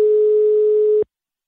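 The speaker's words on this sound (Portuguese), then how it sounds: "Ela tá chamando Vanusa." An outgoing telephone call gives a single steady ringback tone lasting about a second, clear and close, then cuts off into silence.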